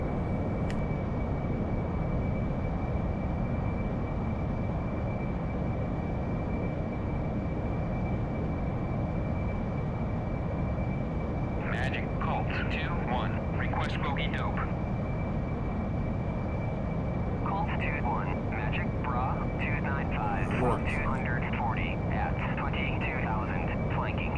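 An AV-8B Harrier jet engine hums steadily in the DCS flight simulator, a constant close roar with a faint whine across the whole span, while a voice talks at times over it.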